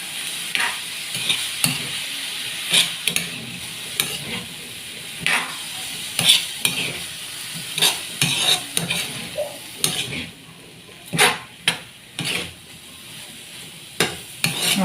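Mixed vegetables with some meat are stirred in a sizzling pan, a utensil scraping and clattering in irregular strokes over a constant hiss of frying and steam, close up with no talking.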